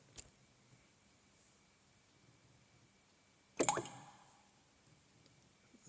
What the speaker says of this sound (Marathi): डुबुक असा समोरच्या पाण्याचा आवाज कोणीतरी लहान दगड टाकला असावा